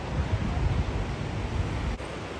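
Steady rushing water from a river at the Dhari Devi temple, a broad continuous roar mixed with wind buffeting on the microphone, with no voices.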